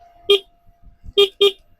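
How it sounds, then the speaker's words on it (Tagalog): Three short, high-pitched beeps from a small motorcycle horn: one, a pause, then two quick toots close together, each one clear and near. "Medyo cute lang yung busina natin."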